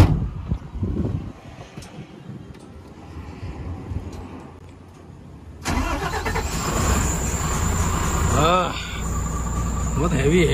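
Eicher 8035xm mining truck diesel engine, starting up midway with a sudden loud rumble that settles into a heavy steady idle with a brief rev, after quieter outdoor ambience with insects chirping.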